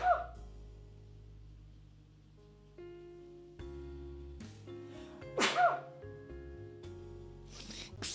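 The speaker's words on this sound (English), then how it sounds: "I'm going to sneeze." A single sharp sneeze bursts out partway through, loud and close, over a steady bed of game music with a few brief clicks.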